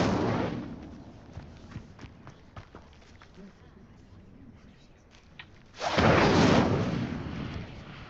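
A burst of the Incendio fire spell in the game Hogwarts Legacy: a loud, roaring whoosh of flame erupts late in the clip after a stretch of quieter rumbling and scattered thuds.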